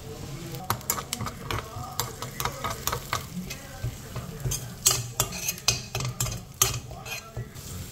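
Garlic frying in a pan for pudina rice, a continuous close sizzle broken by frequent sharp scrapes and clinks of a metal spatula stirring against the pan.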